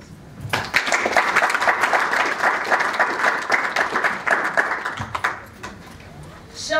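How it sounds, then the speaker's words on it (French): Crowd at a Congolese UDPS political rally bursts into sustained applause, loud clapping and cheering lasting several seconds before tapering off, with voices mixed in. "Je vous demande d'applaudir."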